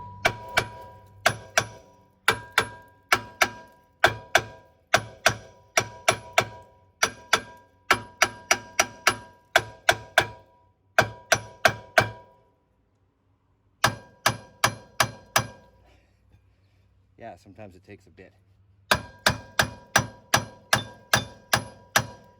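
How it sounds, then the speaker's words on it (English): Hammer blows on a rusted rear brake rotor seized to the hub of a 2013–2016 Ford Escape, sharp metallic clangs in rapid bursts of several strikes with short pauses, plus a brief spoken line. "just going to hammer between the studs until this whole rotor loosens"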